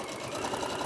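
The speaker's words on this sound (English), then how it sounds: "I'm gonna sew this all the way down the bottom." A sewing machine stitches down the bottom edge of a fabric mat, a fast, steady mechanical whir up close.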